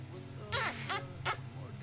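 Small puppy in a Gacha Life animated short yipping in quick high-pitched barks, three sharp near yelps over a faint background tone.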